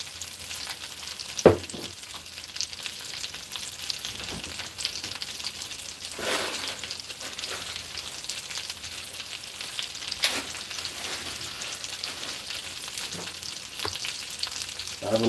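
Oil frying steadily in a pan with a constant crackling sizzle, close and moderately loud, with occasional louder pops and stirring clatters and no voices.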